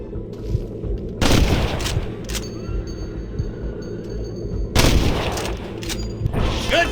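Gunfire in the Western video game Red Dead Redemption: two loud, broadband bursts of shots about three seconds apart, each with a rolling echo tail, over a steady low rumble of ambience.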